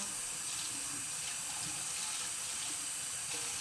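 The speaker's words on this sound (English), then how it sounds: "And you want to let the water run down," Tap water runs steadily over hair while locs are rinsed of shampoo, a continuous close splashing hiss with no voices.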